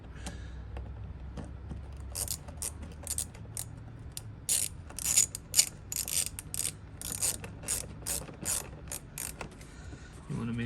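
A ratchet wrench tightens the clamp on an air intake hose, with quick clusters of close, crisp clicks that come in uneven bursts over a quiet background, and no talking.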